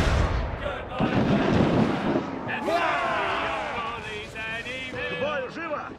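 Ship cannons fire in Assassin's Creed 4: Black Flag, with loud, booming broadband blasts early on under shouting voices, as a naval battle plays out with game music and sound effects.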